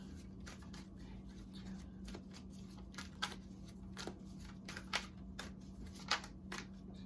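Soft riffling and flicking of tarot cards being shuffled, a steady series of quick papery snaps over a low constant hum.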